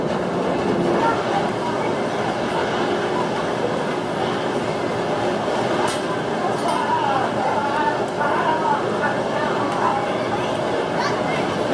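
Kumba, a B&M sit-down roller coaster, runs with a continuous rushing roar and rattling clinks of the train on track, while people talk over the steady noise.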